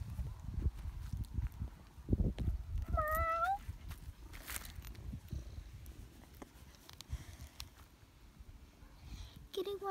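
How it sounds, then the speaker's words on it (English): A cat gives a short rising meow partway through, surrounded by faint outdoor rustling, thumps and footsteps, with people talking quietly around it. "That's a kitty cat."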